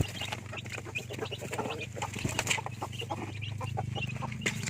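Rhode Island Red chickens, a rooster among them, cluck and chatter continuously nearby, with chicks peeping over a steady low hum of farm background noise.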